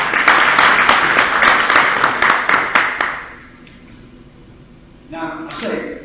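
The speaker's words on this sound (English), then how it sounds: "I'd like to give them a little round of applause for making this possible" A crowd at a knowledge café gathering in Dubai claps for about three seconds in a dense, lively burst that tapers into quiet room tone, followed by a brief voice near the end.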